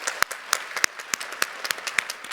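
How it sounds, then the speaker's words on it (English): Scattered audience clapping at a SIGGRAPH Asia live demonstration as a fashion model is welcomed on stage, a handful of sharp, uneven claps from a small crowd, with no talk over them. "So please give applause to welcome her to the stage."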